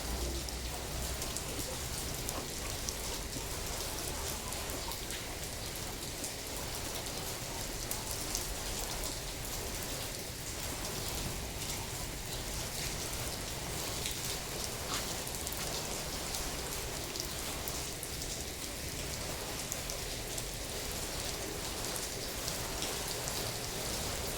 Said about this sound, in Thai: ฝนกระเซ็นกระดอนใส่ข่อยเปียกหมดละ